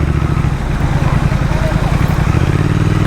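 A motorcycle with aftermarket exhaust, from a Triumph Speed Twin versus Harley 48 ride comparison, rumbles steadily with a deep, even engine drone while a rider talks over it throughout.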